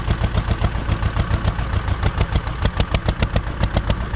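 An Ursus C330 tractor's engine thuds along in steady rapid beats after the throttle opens, close and loud, with no talking.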